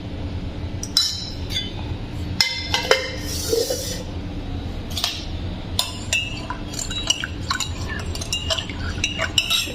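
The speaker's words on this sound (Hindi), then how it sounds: "ये गया 1 चम्मच देसी घी इसके अंदर।" A spoonful of desi ghee goes into a home-made morning drink and is stirred, giving scattered clinks of a spoon against a glass or vessel with soft scraping, close by and fairly quiet, no talking.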